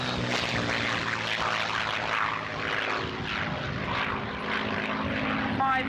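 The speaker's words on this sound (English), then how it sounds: "Spitfire, the Mark 9," Supermarine Spitfire Mark 9 propeller aircraft flying past at an air tattoo airshow, a sustained rough engine drone with a broad roar, moderately distant and steady, with faint background noise.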